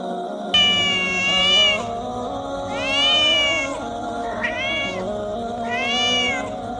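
A kitten meows loudly outside a house in the rain, giving four drawn-out, wavering cries at steady intervals, close and clear over a low background hum.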